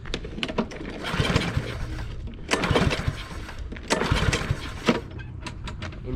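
Small engine cranked three times with the choke on, each long pull giving a rough sputtering whir that dies without starting, close and loud with brief pauses between attempts.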